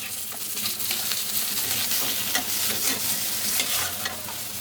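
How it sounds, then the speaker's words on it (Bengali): Fish pieces sizzling in hot oil for a katla fish curry with cauliflower, a dense, continuous frying hiss with crackling, close and loud, steady for a few seconds with no voices. "তেল গরম হয়ে গেছে, দিয়ে দেবো মাছ। লাল লাল করে ভেজে নেবো মাছগুলো।"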